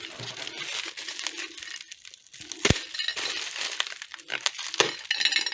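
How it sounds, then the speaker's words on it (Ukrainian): Small objects rattle and clatter inside a little package as it is shaken, with crinkly wrapping noises and a couple of sharp clinks, close up. "Чуєте, торохтить?"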